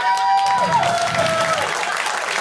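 A studio audience applauds in a steady, dense wash of clapping that holds at an even level throughout, with a faint tone sounding over it.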